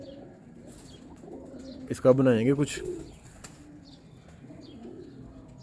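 A prized pigeon in a keeper's loft gives a short warbling coo near the middle, close and fairly loud, set against a quiet room hum. Someone speaks briefly nearby; no clear wingbeats stand out.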